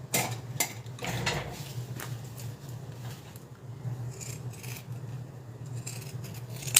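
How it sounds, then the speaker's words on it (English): Pinking shears clipping excess fabric along curved seams, producing a series of quiet, close snips and metallic clicks at an irregular pace over a low background hum, with no talking. "I'm going to take my pinking shears and I'm going to clip the excess fabric in my curves."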